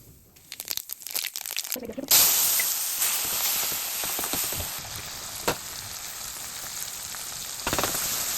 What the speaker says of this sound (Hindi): अब मैं छौंक के रख देती हूँ दाल